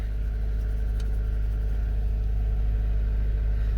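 A low-mileage 12-valve Cummins diesel engine for an F-450 build runs at a steady idle, a loud, constant deep rumble that stays even throughout with no voices.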